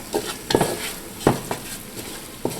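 Swamp rabbit gravy thickened with flour sizzles softly in a pan while a utensil scrapes and stirs in irregular strokes, close by with no talking.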